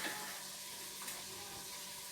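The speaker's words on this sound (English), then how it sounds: "Let's give that a stir." Spices fry in a pan for a vegetable curry, giving a soft, steady sizzle with a faint scrape as they are stirred, heard alone and fairly quiet.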